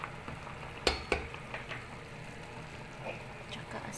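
Sinigang with squash being stirred in a pot, giving a couple of sharp scraping clinks near the start, then soft intermittent stirring and faint simmering sizzle in a quiet kitchen.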